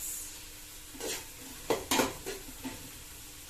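A small pan of onion and tomato sauce sizzles softly over the heat, with a few clinking scrapes of a utensil stirring it at irregular intervals and no one talking.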